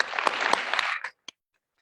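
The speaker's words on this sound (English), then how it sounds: "let's have another round of applause for our wonderful authors this morning" Audience applause for the authors at a morning book panel, a dense burst of clapping that fades out after about a second, followed by one last isolated clap.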